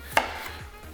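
A knife chops through a red potato on a cutting board, one sharp single thunk standing out clearly against quiet kitchen background.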